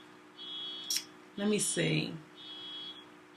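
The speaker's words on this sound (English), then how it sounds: "it's just a car alarm outside" A car alarm goes off outside, a thin steady high-pitched tone holding for a few seconds, faint and distant, with a brief pause as a person talks over it.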